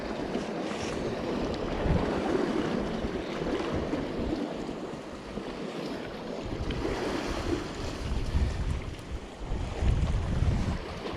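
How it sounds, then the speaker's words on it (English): Steady breeze blowing near the water while fishing from a high spot, a continuous broadband rush of wind and soft lapping water filling the whole stretch, with no voices. "the breeze has picked up a little bit"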